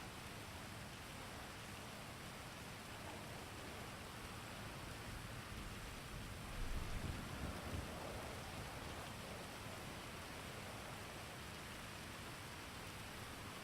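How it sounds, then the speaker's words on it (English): Steady indoor rain leaking through a ceiling, a constant soft hiss with a brief low rumble midway, faint and alone without talk. "here comes the rain. It's raining through the ceiling."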